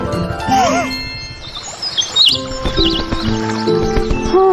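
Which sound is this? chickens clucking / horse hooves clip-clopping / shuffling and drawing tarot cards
horse hooves clip-clopping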